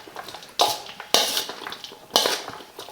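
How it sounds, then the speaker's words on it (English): A spoon clinks against a bowl as shrimp salad with mayonnaise is stirred, giving three sharp close scrapes and knocks over soft, wet mixing. "So now what I'll do is I'm gonna give this a little stir"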